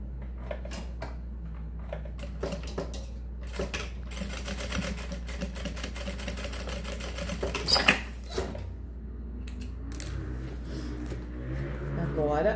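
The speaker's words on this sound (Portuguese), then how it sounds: "vou passar uma costurinha um pouquinho pra cá agora" A sewing machine stitches a seam in the lining of a pouch, giving rapid mechanical clatter in several short runs with pauses between them, close by, with someone talking quietly over it.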